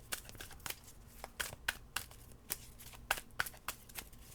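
Tarot cards shuffled and drawn by hand, quiet and close, a run of soft irregular riffling snaps and flicks spread through the few seconds, with no talking.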